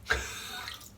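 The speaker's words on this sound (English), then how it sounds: "I was going to wet my face there" Water splashing as hands wet a face before a shave, a brief close splash at the start trailing into running water from a tap.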